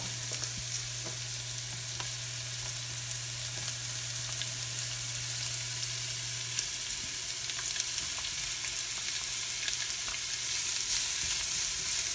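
Bell peppers fry in a pan for pad thai, giving a soft, even sizzling hiss with faint clicks of stirring throughout, fairly quiet and close, with a low steady hum underneath and no speech.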